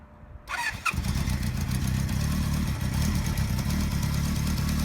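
A 1973 Kawasaki Z1 900 motorcycle, cold with the choke on, cranks briefly then fires and settles into a steady, loud, close idle with no talk over it.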